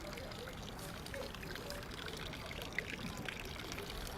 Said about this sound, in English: Here's the water I was telling you about coming off the mountain.